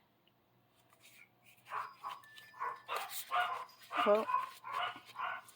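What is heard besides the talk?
dogs barking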